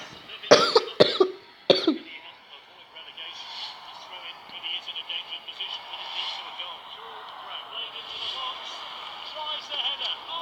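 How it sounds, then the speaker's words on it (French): One person coughs three times in quick succession, close and loud, and then quieter game sounds play on in the background. "désolé les amis si je tousse, ça veut dire que je suis un petit peu malade"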